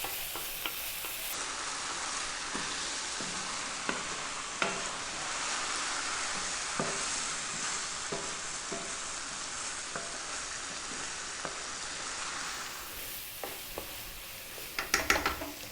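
Chicken and beans seasoned with smoked paprika fry over fairly high heat, a continuous close sizzle broken by regular scraping stirs in the pan, with a few louder clatters near the end and no voices.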